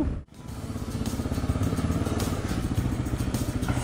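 A Kawasaki KLR 650 motorcycle engine drones loud and steady while riding, with a rough, pulsing rumble and some clatter, heard close up throughout.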